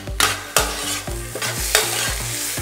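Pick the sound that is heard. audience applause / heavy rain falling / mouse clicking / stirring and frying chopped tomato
stirring and frying chopped tomato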